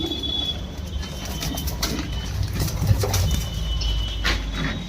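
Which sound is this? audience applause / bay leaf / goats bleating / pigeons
pigeons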